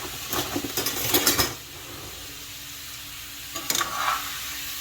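Meat being stirred and broken up in a pan over high heat for cheeseburger macaroni, with soft sizzling beneath two bursts of clattering spatula scrapes, one longer at the start and a brief one near the end.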